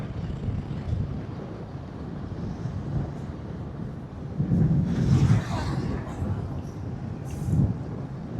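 Wind blowing across open ground near an old airstrip in Kilinochchi, a steady low rumbling roar with stronger gusts swelling midway and again near the end.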